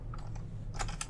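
A git clone command is typed on a computer keyboard in a short run of quick, light key taps, ending in a brisker cluster of clicks, close-up over faint background hum.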